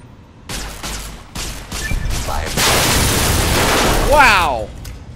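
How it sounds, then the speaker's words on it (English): Explosions in the Fallout: New Vegas video game, a thick roaring blast layered with crackling bursts that builds and holds loudly for several seconds, ending in a descending whistling sweep. "Yeah, you gotta watch out those extra explosions."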